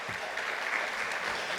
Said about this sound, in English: Can I have a thunderous round of applause for our chairman